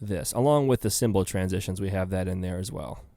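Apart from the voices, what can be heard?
None of the usual background noises is heard.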